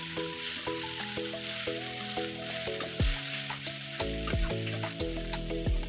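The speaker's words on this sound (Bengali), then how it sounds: "এই তেলের মধ্যে এঁচোড় আর আলু ভালো করে কষিয়ে নিচ্ছি" Green jackfruit and potato frying in mustard oil, a constant bright sizzle with occasional stirring clatter, while steady musical tones play over it.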